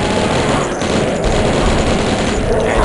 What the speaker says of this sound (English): It's like a magic fire based weapon.